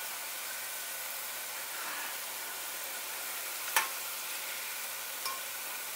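Garlic sautés in a pan with a soft, even hiss, fairly quiet and steady, and a couple of sharp utensil taps near the end.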